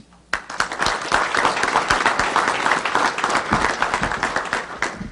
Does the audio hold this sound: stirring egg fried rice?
no